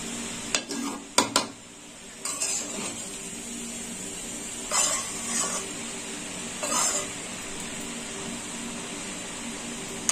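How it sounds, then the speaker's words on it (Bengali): Vegetables for mixed veg rice are stir-fried in a pan: a low, even sizzle runs throughout, broken by a few sharp spatula clicks near the start and several brief scraping strokes later on, with no talking. "এইভাবে নেড়ে চেড়ে নিতে হবে, ভালো করে কষে নিতে হবে।"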